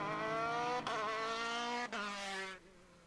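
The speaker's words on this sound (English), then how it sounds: "Fergus Faherty doing a straight line burnout." Formula BOSS race car doing a straight line burnout to warm its tyres: a loud, sustained high-revving engine drone with two abrupt gear-change breaks, running close for about two and a half seconds before easing off.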